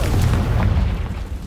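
A Confringo blasting spell explodes in the Hogwarts Legacy game, a deep booming blast that rumbles low and heavy through the whole moment, loud and continuous without speech.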